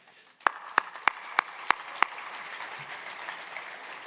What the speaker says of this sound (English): Truly, you all deserve a big round of applause.